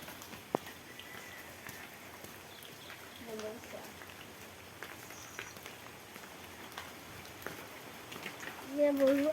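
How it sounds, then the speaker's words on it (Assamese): Steady rain patters on surfaces nearby outside a school, an even, soft wash of drops, with a voice speaking briefly near the end. "এয়া বৰষুণে দি আছে।"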